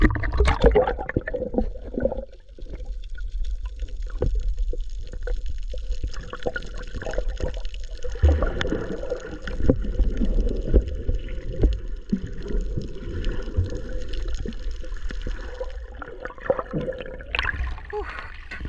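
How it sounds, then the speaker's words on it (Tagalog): Rough sea waves break and slosh around divers in shallow water off an island, a steady churning water noise that runs throughout, with a voice occasionally heard faintly underneath. "Sobrang alon dito mga sir banda oh. Grabe yung alon oh."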